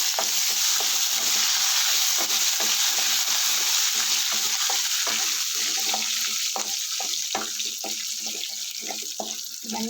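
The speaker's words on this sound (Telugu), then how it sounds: "ఇవన్నీ మంచిగా వేగుతున్నాయి కదండి" Cashews and curry leaves fry in hot oil, giving a continuous close hiss dotted with rapid crackles and pops that carries on evenly and eases slightly toward the end.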